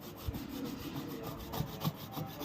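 A knife sawing through a large, tough fruit, giving rough, scraping rubs with a few dull thumps, faint and close, with no voices.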